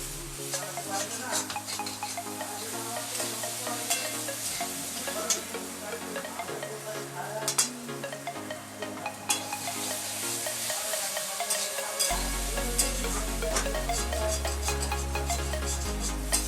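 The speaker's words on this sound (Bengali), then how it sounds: "আলুর সাথে পোস্তটা আমি একদম ভালোভাবে কষিয়ে নেব, ভাজা ভাজা করে নেব শুকনো করে" Potatoes with poppy seed paste and green chillies are stirred and fried dry in a pan, giving a steady close sizzle with repeated scraping and clinking of the spoon against the pan, with no speech.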